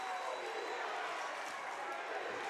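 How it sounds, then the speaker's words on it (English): Basketball crowd at an Ohio high school boys' tournament game, a steady broadband roar of cheering and applause filling the gym throughout, loud and continuous with no distinct break. "Their crowd is really starting to get into it."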